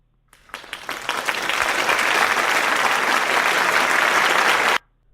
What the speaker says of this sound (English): applause medium of an audience